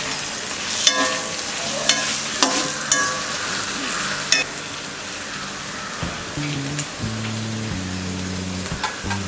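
Pav bhaji masala and Kashmiri red chili powder are stirred on a tawa for tawa pulao, giving a steady sizzle broken by sharp spatula clicks and scrapes, with a faint tonal hum underneath.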